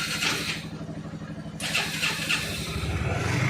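A motorcycle engine is started and settles into a steady mid-pitched idle, with a short break in the sound partway through before it catches again and keeps running close by.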